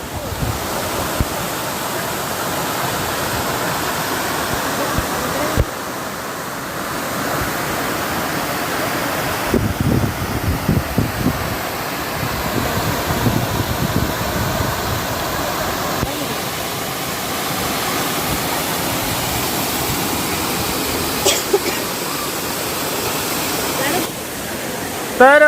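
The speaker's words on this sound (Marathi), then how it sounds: "तर तुम्ही बघू शकता की मी आता वॉटरफॉलच्या जवळ आलोय. हा आहे वांगणीचा वॉटरफॉल." The Bhagirath waterfall at Vangani pours with a steady, full broadband roar of rushing water close by, mixed with wind buffeting the microphone and occasional faint voices of visitors nearby.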